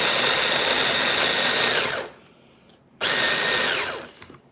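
Small electric mixer chopping onion in a home kitchen, two loud whirring bursts of motor noise separated by a brief pause, close and without talk.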